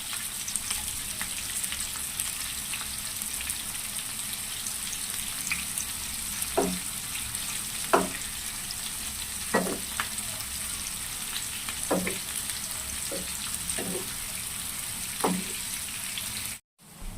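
Bitter gourd slices fry in oil in a pan, a steady crackling sizzle punctuated by occasional sharp clicks and taps as the pieces are turned.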